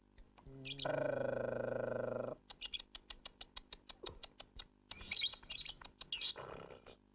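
A lovebird chirps and trills nearby, a long sustained buzzy note followed by rapid bursts of sharp tweets and squeaky calls.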